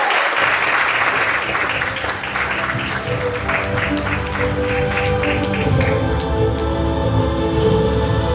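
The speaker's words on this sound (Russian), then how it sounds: "И под бурные аплодисменты мы включаем" Loud, sustained applause from an audience fills a college awards ceremony, a dense wash of clapping steady throughout with some crowd noise mixed in.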